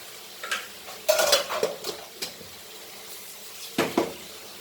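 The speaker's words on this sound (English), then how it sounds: "Mix this nicely, all very nicely." A spoon stirs turmeric, coriander and Kashmiri red chili powder into a mushroom stuffing in a pan, giving a few soft, scattered scrapes and knocks against the metal over a quiet background.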